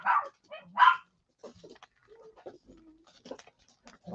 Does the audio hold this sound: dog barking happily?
yes